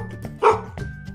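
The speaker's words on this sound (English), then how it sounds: "Look! It's a dog." A small dog in a cartoon gives one sharp, close bark in the middle of a quiet moment, with faint background sound around it.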